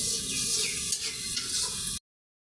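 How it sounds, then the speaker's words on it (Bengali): Ground chili spice paste fries in a pan with a close, continuous bright sizzle and light stirring, then cuts off abruptly into silence after two seconds. "এটা আমি অনেকক্ষণ ধরে ধরে ভাজবো"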